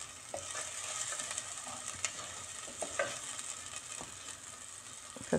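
Garlic and onion frying in a pan for a home-cooked bean stew, a steady close sizzle with occasional stirring scrapes and clicks throughout, no voices.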